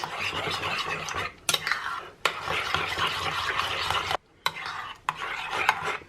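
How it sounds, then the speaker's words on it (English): Two eggs are whisked with a utensil in a bowl, producing loud, close, continuous scraping and clinking strokes broken by a few short pauses. "starting with the 2 eggs. And just give that a mix through till it's well combined."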